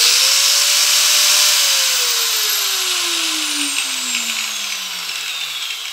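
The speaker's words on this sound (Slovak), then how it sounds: "Ukážem vám teraz, ako fungovali tieto brúsky, ktoré ešte nemali plynulý rozbeh" A Makita GA5030R angle grinder without soft start runs at a loud, high whine, then its pitch steadily falls as the motor coasts down, with no talk.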